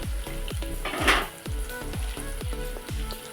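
Dried red chillies frying in hot oil, a steady close sizzle with repeated metallic scrapes and taps of a utensil against the pan at a regular rhythm, with no voices.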